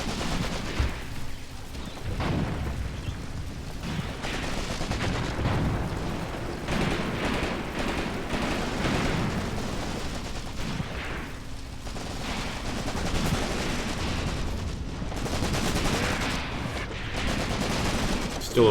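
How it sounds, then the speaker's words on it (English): A German machine gun fires in the Graviteam Tactics: Mius-Front war game, with repeated bursts of gunfire and distant booms forming a dense, continuous battle din. "Look at this German machine gun."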